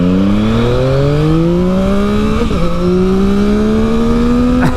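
A 2021 Yamaha MT-09 SP motorcycle engine revving while riding, loud and close as it climbs smoothly through one gear, shifts, and pulls up again in a rising drone.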